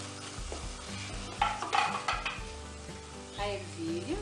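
Rice being stirred in a pan for Greek-style rice with peppers and a seasoning sachet, a spoon scraping and clattering against the metal over a faint sizzle, several close strokes in a loose rhythm.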